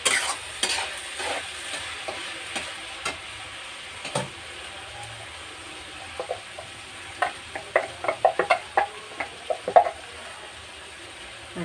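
Onions sizzle and fry in a pan for a cashew egg curry, with a spoon scraping and clicking as they are stirred, close and intermittent over a soft steady hiss.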